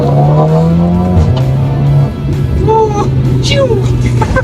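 Modified VW Scirocco 1.4 engine held at a steady loud rev, then dropping and swelling again in short blips, close by.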